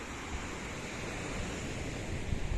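Sea waves wash onto a beach at Dingalan, Aurora, a faint, steady broadband rush of surf with a soft swell near the end, mixed with light wind noise and no speech.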